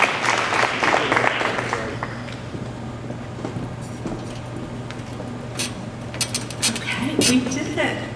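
An audience at an awards event for pandemic nominees claps in a dense burst that fades away after about two seconds, leaving scattered claps and light clatter.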